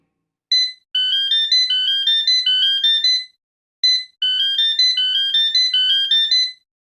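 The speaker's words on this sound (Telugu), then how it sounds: "దాని గురించి ఆలోచించేలోపే బెంగళూరు నుంచి టెలిఫోన్కి ఇంటర్వ్యూ కాల్ వచ్చింది." A telephone rings with an incoming interview call from Bangalore, a loud, clean electronic ringtone playing two bursts of rapid repeated chirping tones separated by a short pause, with no one speaking.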